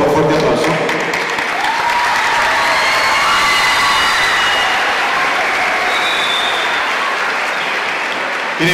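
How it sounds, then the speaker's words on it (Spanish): A live crowd applauding at a concert in Catamayo, loud dense clapping sustained throughout with some cheering mixed in. "Démosle por favor un fuerte aplauso."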